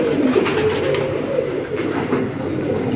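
Rampuri breed pigeons coo in low, soft repeated calls close by, over a steady background murmur.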